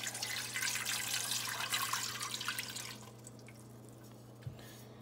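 Water pours steadily into a metal pressure cooker on the stove for a few seconds, then stops, leaving a quiet hum and a faint clink.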